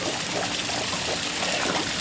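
Water from a pump draining a backyard pool gushes and splashes in a steady, continuous wash, fairly loud and unbroken, with no voices.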